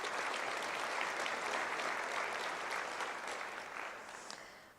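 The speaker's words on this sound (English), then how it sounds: "So let's give them a round of applause." Sustained applause from an audience at a county State of the County speech, honoring the commissioners; the clapping is steady and full, then gradually fades toward the end.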